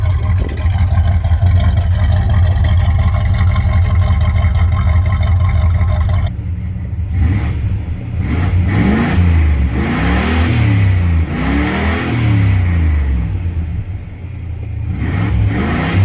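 Car with an Olds 350 V8 engine on a test drive after valve spring adjustment: loud steady engine drone that shifts, then rising and falling revs as it accelerates and eases off, close and continuous.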